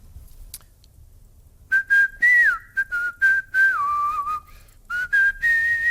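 A man whistles a familiar tune as a clue in a timed guessing game, loud and close, in short bursts and held notes that bend and slide, with no talking.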